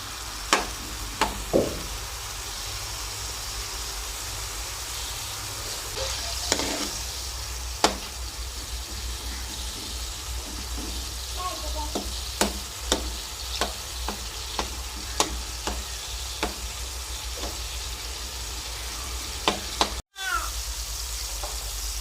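Tomatoes soften and fry in oil in a village-style beef karahi, giving a steady sizzle. Sharp scraping and clinking stir strokes recur throughout, with one abrupt break near the end.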